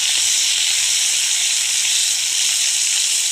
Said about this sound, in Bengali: দেখো এক এক করে আমি ভেজে নিচ্ছি মাছগুলো